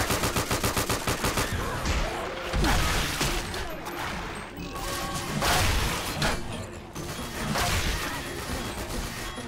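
Guns fire at a zombie in Left 4 Dead 2 on a Crash Bandicoot custom campaign map: a rapid, even run of close shots gives way to heavier bursts and crashes that continue throughout.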